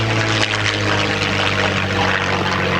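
A WWII-era propeller aircraft roaring low overhead on a simulated strafing pass at an airshow, a loud, sustained engine drone with steady harmonic hum, close and continuous.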